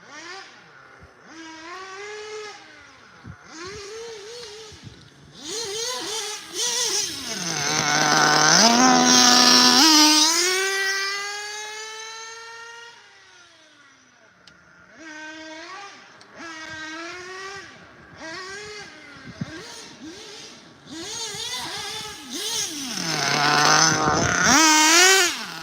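A hobby RC car's electric motor whines loudly and close by, pitch climbing and falling through repeated hard revs as it drives, with one long sustained high-speed run in the middle.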